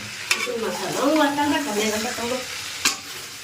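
Chicken cooked with chili powder and coriander powder is stirred in a pan. A steady frying sizzle runs throughout, with two sharp spoon knocks, one near the start and one near the end. A voice hums or speaks faintly underneath.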